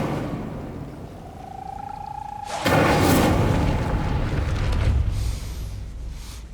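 An Incendio fire spell cast in Hogwarts Legacy: a rising whine, then a sudden loud fiery whoosh-boom that roars for a few seconds before tapering off.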